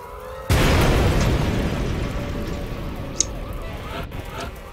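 An explosion in the XCOM Enemy Within video game, a sudden loud blast that then rumbles and fades slowly over several seconds, with a brief sharp click partway through and no talking.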